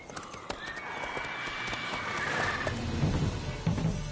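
Roach, a horse in The Witcher video game, gallops with quick clip-clopping hoofbeats and gives a neigh amid game sounds, the hooves growing heavier and closer toward the end.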